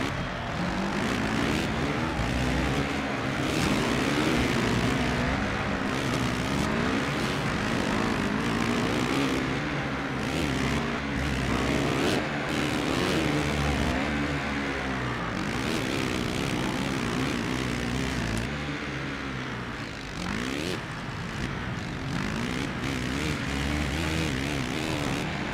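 Motocross bike engine in MXGP, an MX2 career race at Lausitzring in Germany, droning loud and steady for the whole stretch with rising and falling revs, several bikes blending together, and a voice occasionally talking over the noise.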